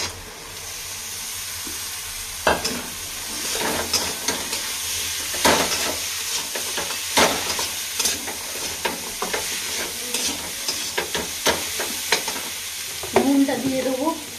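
Spices sautéing in a pan for cauliflower ghugni, a loud, close sizzle with frequent spatula scrapes and stirring knocks throughout, plus a brief clatter near the end, with no voices.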